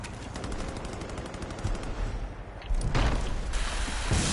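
Gunfire aimed at players in Far Cry 5, a dense rattle of rapid automatic shots with a few heavier bursts, loud and continuous, with no talking.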